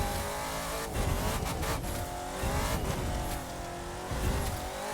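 Race car in The Crew 2 driving hard, engine roaring and revving with pitch shifts, brief tire squeals and skids as it brakes, loud and close, with no voices.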